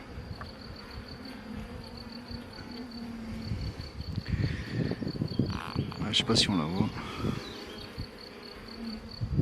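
Honeybees buzz steadily around the queen in a hive, a close, continuous hum with louder rustling and crawling movement in the middle; a person speaks briefly over the buzzing.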